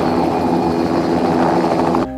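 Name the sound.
helicopter noise on wildlife footage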